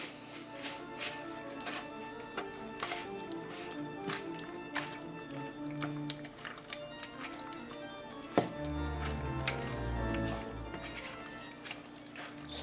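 Cheesecake ingredients being mixed together in a bowl, with soft wet squishing and repeated clicking knocks in an irregular rhythm, then a sharp tap followed by a low mechanical whir of blending.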